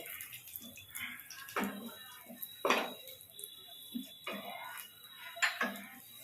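Raisins and cashews stirred in hot oil in a pan while cooking prawn pulao: intermittent metallic scrapes and clinks of a spoon against the pan, with a faint, steady high whine underneath.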